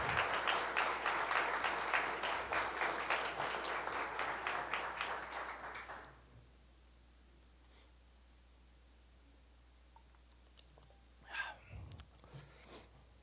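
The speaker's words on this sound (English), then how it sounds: "How about a round of applause for my wife, Lisa, and her global community service on behalf of Africa Yoga Project." A press-conference audience claps in a strong round of applause that fades out after about six seconds, leaving a quiet room with a few scattered coughs and small noises.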